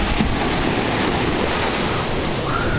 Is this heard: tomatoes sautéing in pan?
no